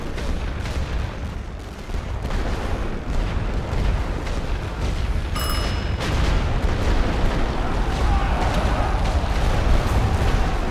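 Full artillery barrage at the Battle of Cantigny in The Great War: Western Front: loud, continuous thunder of many guns and explosions rolling for over ten seconds, with sharp impacts standing out from the dense roar.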